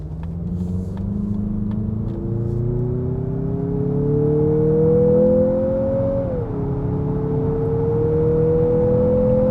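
A Mazda CX-50 SUV in sport mode accelerates hard from inside the cabin, its engine note rising steadily, dipping briefly at a gear change around two-thirds through, then climbing again over a constant road rumble.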